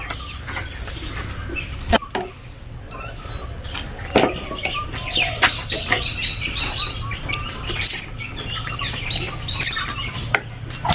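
Chickens on a poultry farm that had been battered by storms, with repeated chirps and short calls over a low background hum and scattered sharp clicks, and no voices.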